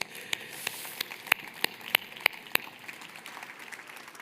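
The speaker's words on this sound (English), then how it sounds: "Let's give them a round of applause." Faint applause follows a panel talk at the ChangeNOW 2024 sustainable industrialization session, a thin scattering of evenly spaced claps, as if only a few hands, set against a quiet room.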